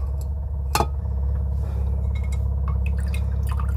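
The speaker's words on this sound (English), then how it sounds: "Getting some clear water coming out now." Water trickles from an Itehil water purifier in a van, a thin steady flow under a low hum, with a few distinct drips and light splashes.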